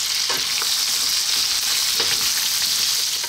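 Pork ribs being stir-fried with spring onion for a spicy Filipino dish, a steady loud sizzle with scraping stir strokes throughout, no talking.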